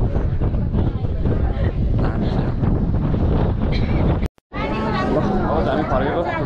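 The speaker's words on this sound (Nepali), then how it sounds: "हावा चाहिँ मजाको है" Strong wind buffets the microphone atop the Dharahara tower, a loud, constant roar with one brief dropout, while people chatter and call out beneath it.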